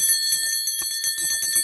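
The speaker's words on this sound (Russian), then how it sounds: "Это индийский колокол." Indian bell ringing with a bright, sustained metallic tone that shimmers continuously throughout, loud and close, with faint soft knocks beneath.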